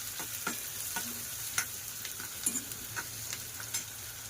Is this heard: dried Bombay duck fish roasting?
yes